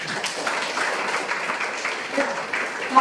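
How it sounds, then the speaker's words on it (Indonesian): A group claps and applauds steadily for a few seconds, a dense patter of hands at moderate distance. "tepuk tangan buat kita semua"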